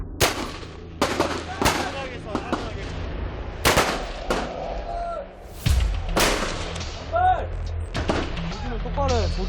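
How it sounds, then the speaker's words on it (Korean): Rifle shots fired at a military shooting range during soldiers' marksmanship qualification, a series of loud, sharp cracks with ringing echoes, some in quick succession, while people speak between the bursts. "전방에 적출현 사격 개시. 사격 개시."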